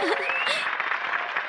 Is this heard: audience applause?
yes